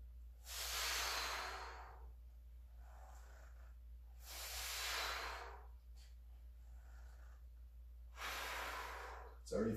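Heavy breathing during a band pull exercise in a workout for people over 50: three long, strong breaths roughly four seconds apart, each swelling and fading against a steady low hum, with no talk.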